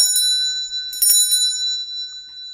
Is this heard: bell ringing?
yes